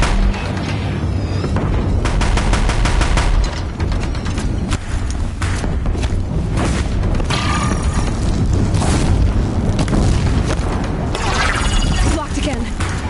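Video game combat at a bridge: continuous loud gunfire and booming explosions crash and rumble throughout with dense, unbroken intensity.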